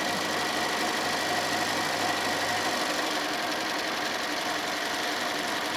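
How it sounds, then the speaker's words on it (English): A sewing machine running steadily at 3 stitch length, stitching a fabric panel placemat, with a dense, even mechanical whir and close motor hum that softens slightly toward the end. "And we're just going to sew all the way down."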